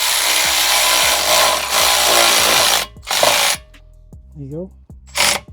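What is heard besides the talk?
tightening bolt on 2015 Volvo XC60 rear brake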